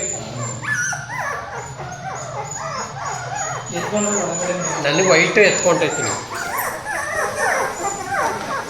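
Newborn puppies from a Pomeranian mother whimper and yip in quick, high bursts throughout, close by. A person talks over them for most of the time.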